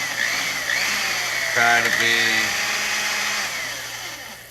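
A power drill fitted with an M4 bit whines steadily through plastic while holes are bored during 3D printer assembly, with a short change in pitch partway through and a person speaking briefly over it.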